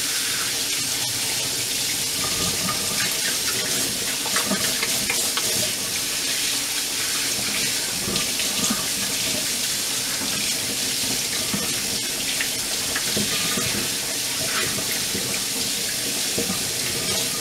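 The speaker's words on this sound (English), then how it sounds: "Let's wash our hands of the butter" Warm tap water runs steadily into a sink while hands are rinsed of butter, a continuous close splashing hiss with small shifts as the hands move through the stream.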